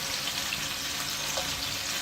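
Chicken fries in a pan with a dense, steady sizzle and crackle, loud and close, continuous with no talking.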